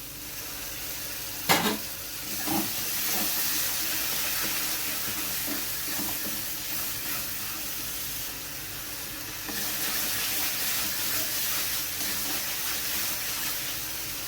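Masala with tomato paste fries and sizzles steadily in a pan, a constant hiss with a few scraping stir strokes and soft clinks near the start.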